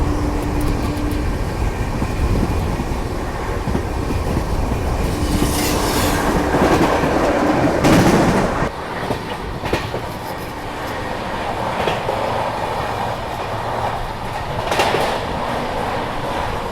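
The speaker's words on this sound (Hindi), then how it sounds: "यहाँ पे ट्रेन अच्छी खासी रफ्तार में आमला को स्किप करने वाली है" Bengaluru Rajdhani Express running at speed, a steady loud rumble of wheels and wagons with rhythmic clickety-clack and brief wheel squeals, continuous throughout with no talk.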